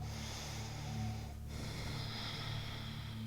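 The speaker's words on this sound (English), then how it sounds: "breathing with sound" Steady, audible breathing during yoga with a hissy, nasal quality, continuous and fairly close, with a brief dip partway through.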